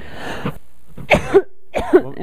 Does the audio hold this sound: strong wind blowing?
no